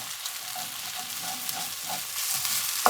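Spices for curry paste frying in a pan over lowered heat, a steady soft crackling sizzle with light stirring, close and continuous.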